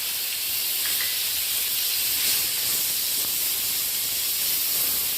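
Grated onion hits hot oil already tempered with five-spice, producing a loud, steady hiss and sizzle that runs evenly throughout with no speech over it.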